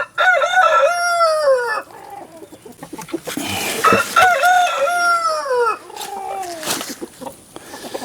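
A rooster newly introduced to an older flock of hens crows loudly several times up close, with clucking and other chicken calls around it and a dog faintly in the background.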